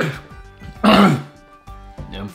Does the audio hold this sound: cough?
yes